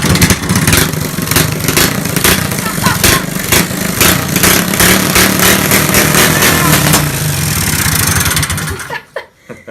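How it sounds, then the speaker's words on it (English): A Ford Bronco engine in a custom build fires up for the first time, roaring loud and close with rapid rhythmic pulses before cutting off abruptly near the end. "we are firing up this engine for the very Okay, go. first time."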